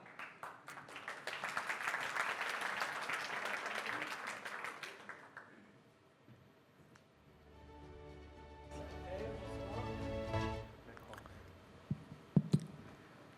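Applause fills a hall at a social innovation awards ceremony to welcome a speaker, dense clapping for about five seconds before fading, followed by quieter sounds, a few sharp clicks and some talk.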